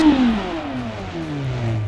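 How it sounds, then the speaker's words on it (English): A 1967 Formula One race car engine in the BeamNG driving game revs loudly and close up, its pitch sweeping down and settling into a steady drone with no talking. "That's a good sounding Formula One engine."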